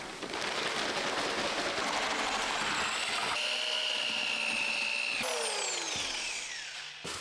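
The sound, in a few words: power drill mixing concrete topping in a bucket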